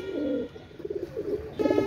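A pair of Pakistani Rampuri running pigeons cooing close by, soft throaty coos swelling and fading in several short phrases with a louder burst at the end.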